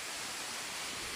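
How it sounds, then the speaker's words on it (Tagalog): New Rizal Falls in Dumarao, Roxas, Palawan sends out a steady, dense rushing roar of falling water that fills the whole moment without a break. "Kami ngayon guys sa sa New Rizal Falls."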